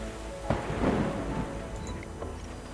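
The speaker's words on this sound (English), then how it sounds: "And great, it stopped raining." Steady rain in the video game Terra Nil, a dense, even hiss filling the whole stretch, with a low rumble and a soft thud near the start and no voices over it.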